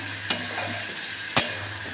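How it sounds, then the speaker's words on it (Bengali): Meat being stir-fried with spices in a pan, a steady sizzle with two sharp scrapes of a spatula against the metal, close and fairly loud, no talking. "এটাকে আরেকটু মশলার সঙ্গে ভালো করে একটু কষে নিই"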